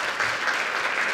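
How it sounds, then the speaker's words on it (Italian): Audience applause at a university conference, a dense, steady clapping that fills the whole moment at full strength without pause. "un applauso"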